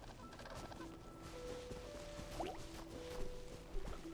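Quiet outdoor ambience in Genshin Impact with birds nearby, soft scattered chirps and a brief squawk over low background hum, no talk.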